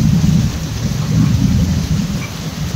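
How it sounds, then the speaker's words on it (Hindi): Heavy morning rain pours down with thunder, a loud, steady hiss of rain on surfaces over a continuous deep rolling rumble, with no voices. "और सुबह सुबह बहुत ज़्यादा बारिश हो रही है यहाँ पे"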